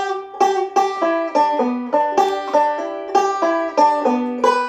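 Banjo picking a two-measure Scruggs-style up-the-neck backup lick, bright rolling plucked notes in a quick even rhythm, close and solo with no talking.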